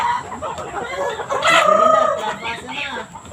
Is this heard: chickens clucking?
yes